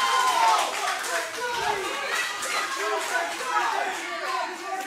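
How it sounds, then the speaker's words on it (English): Crowd at a scrap wrestling match, loud continuous cheering and shouting with some clapping, a dense roar of voices throughout. "You can hear the crowd getting hype here"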